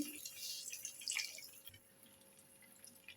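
A small splash and trickle of water poured into a pan of sautéing potato, fenugreek and ginger, quiet and brief, with faint dripping afterward.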